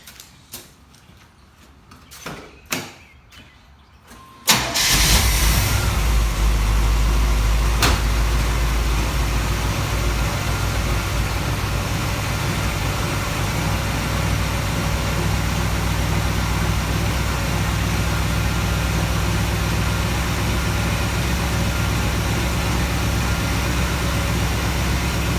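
A few clicks and taps, then a 7.4L 454 V8 engine in a 454 SS cranks and catches, settling into a loud, steady, slightly rough idle that continues to the end.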